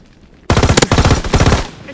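Call of Duty: WWII gunfire, a sustained burst of automatic weapon fire, loud and close, with rapid rhythmic reports and one sharp crack standing out, following a moment of quiet.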